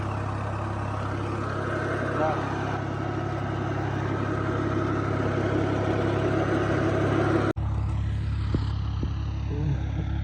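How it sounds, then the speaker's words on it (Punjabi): A tractor engine idles close by with a constant low rumble, cut briefly by a click near the end, then continuing with faint knocks. "ਟਰੈਕਟਰ ਨੇ ਆਵਾਜ਼ ਨਹੀਂ ਬਦਲੀ ਮੇਰੇ ਨਾਲ"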